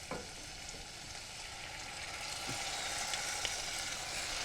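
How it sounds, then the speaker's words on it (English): Tomatoes cooking in a pan for creamy egg noodles give a quiet, continuous sizzle that swells slightly toward the end, with a couple of faint soft knocks and no talking. "So now what we're going to do is just put the tomatoes in. Let that cook for about 10 minutes."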